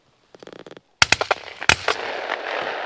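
Shotguns fire at pigeons over a feeding site. A few soft distant clicks come first, then two sharp, loud blasts about a second apart, each followed by quick echoing cracks and rustling.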